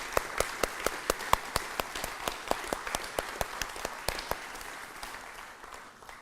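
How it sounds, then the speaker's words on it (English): Applause at a dinner event, rendered here as a single steady rhythmic clapping with evenly spaced sharp claps rather than a full crowd, fading slightly over several seconds. "So everybody clap for your heroes."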